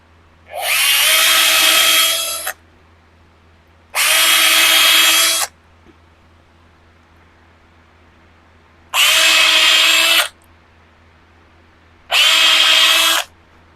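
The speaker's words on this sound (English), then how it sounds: "All right, countersink some screws." Power drill countersinking screws into a wooden bridle joint jig, four separate loud close bursts of a couple of seconds each, separated by quiet pauses, with no talking.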